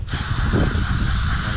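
Aerosol throttle body cleaner sprays in one steady, close hiss into the throttle body of a 2007 Ford F-150 with a 4.2L engine, lasting the whole moment with no talk over it.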